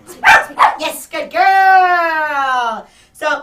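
A female dog named Hippie, excited during a training session, lets out a few short sharp yips, then a long drawn-out whining howl that trails off, followed by one more brief yelp, close and fairly loud.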